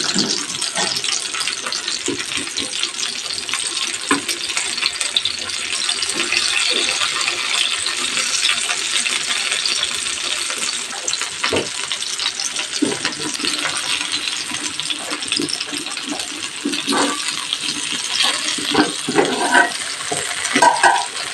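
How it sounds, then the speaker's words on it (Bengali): Marinated cauliflower florets frying on a tawa for tandoori gobhi: a continuous close sizzle with scattered light clinks and scrapes from turning the pieces, no talking. "সব ফুলকপির ফুল তাওয়াতে দিয়ে দিয়েছি, আর যেটুকু ম্যারিনেশন বাকি ছিল কাটিয়ে এই ফুলকপিগুলোতে লাগিয়ে দিয়েছি।"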